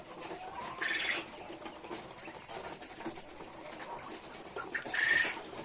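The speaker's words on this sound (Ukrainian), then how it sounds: "А там уже в брудері активно самці співають." Male quails call inside a brooder: two short, faint chirping calls about four seconds apart, over soft rustling and shuffling from the birds.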